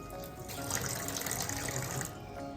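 Tap water runs steadily into a sink while parts of a Kuvings B1700 cold press juicer are rinsed, a close, continuous splashing stream with no talking.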